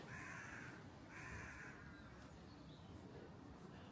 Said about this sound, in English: Lots of courtship going on with the carrion crows.